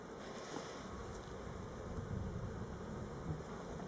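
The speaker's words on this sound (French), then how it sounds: "Là, il y a une abeille avec du pollen sur les pattes." Bees buzz around an open beehive during a spring inspection, a low steady drone that stays faint and continuous throughout.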